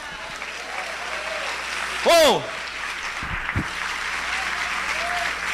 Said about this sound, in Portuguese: Você pode aplaudir a Deus aí?